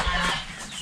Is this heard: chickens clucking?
yes